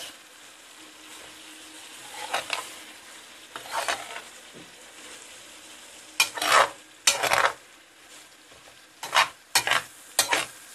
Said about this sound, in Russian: Мешаем и жарим.